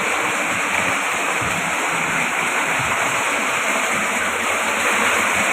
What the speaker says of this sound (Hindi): ये देखें ये मीठा पानी है, सीधा जो है ना समुंदर में जा रहा है